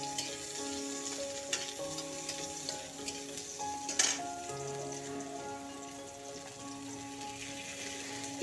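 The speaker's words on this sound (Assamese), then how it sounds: "এইখিনি ভালকৈ ভাজি ল'ম।" Onion frying in oil in a kadai, a steady crackling sizzle close by with occasional stirring clinks, one sharper scrape near the middle, with no voices.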